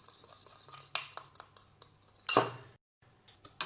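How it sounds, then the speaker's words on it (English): Spoon stirring ingredients in a bowl for a vegan protein bowl, with lime juice and a few drops of sweetener, giving scattered close clinks and scrapes, one sharper clatter midway, then brief quiet. "Mix it well."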